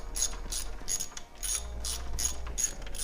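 A ratchet tightens a thermostat housing bolt on a Ford F250 with a 6.8L V10, giving a run of quick, crisp close clicking bursts in an even back-and-forth rhythm.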